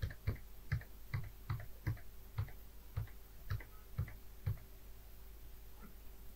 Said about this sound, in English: press Shift plus on keyboard